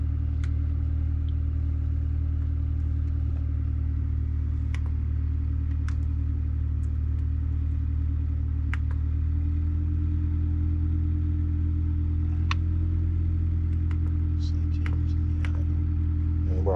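A turbocharged Honda Accord CG6 engine idles steadily on a freshly richened street tune, a deep, even rumble that shifts pitch slightly partway through, with faint clicks over it.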